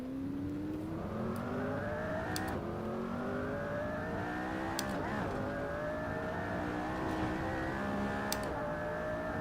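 Maserati GT4 race car engine in Assetto Corsa Competizione at Indianapolis, droning steadily and loudly throughout with rising pitch through the gears, brief shift breaks punctuating the climb, no talking.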